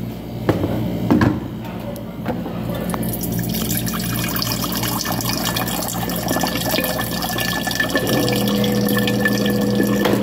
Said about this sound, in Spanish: Agregando un poquito más de agua helada.